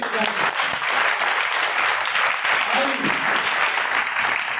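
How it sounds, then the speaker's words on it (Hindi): A seated audience at a church teaching session claps steadily for several seconds, a dense, even patter of applause filling the room with no voices over it. "थैंक यू जी, तालियां सभी के लिए"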